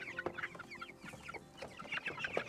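Chickens on a pasture poultry farm, a flock clucking and chattering in overlapping, irregular bursts, moderately close and steady over an outdoor background, with no talk.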